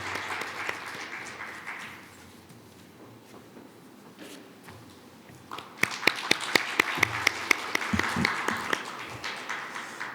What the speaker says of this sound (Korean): 위원장님을 박수로 환영해 주시기 바랍니다